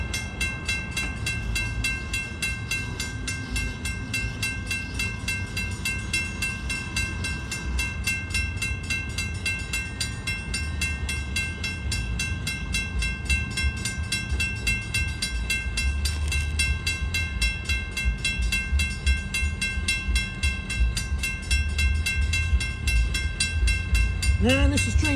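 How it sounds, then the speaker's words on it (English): A Long Island Rail Road commuter train of M7 cars rumbles steadily through a road crossing near Deer Park station, with a continuous crossing bell ringing rapidly throughout and wheel noise building near the end. "This train 2066 is just coming through the Comac Road crossing"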